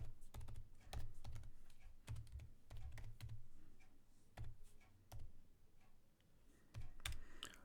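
Typing on a computer keyboard close up: quick bursts of soft clicking keystrokes with short pauses between runs, fairly quiet and steady.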